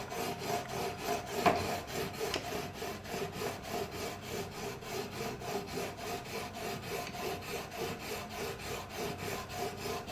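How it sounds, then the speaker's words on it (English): Sandpaper rubbing back and forth over a worn fret on a guitar neck during a full setup, a steady close scraping rhythm with no talk. "our objective is to sand down the worn out fret until it's not seen"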